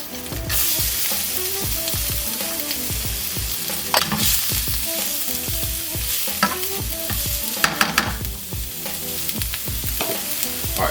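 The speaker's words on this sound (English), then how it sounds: "we're going to stir fry our garlic and our Tofurkey sausage" Garlic and Tofurkey sausage stir-frying in a light coat of olive oil, with a steady close sizzle broken by repeated scraping and clattering strokes of a utensil against the pan.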